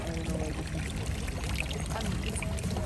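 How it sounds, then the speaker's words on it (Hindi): Water pouring steadily as people fill containers near Neuschwanstein Castle, a continuous splashing flow under faint background murmur at moderate distance. "Look what, ये लोग कैसे पानी भर रहे हैं।"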